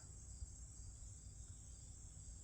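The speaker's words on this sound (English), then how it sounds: "The cicadas are very loud." Cicadas buzzing outdoors in late summer: a continuous high, even drone, faint and distant, steady throughout with no voices.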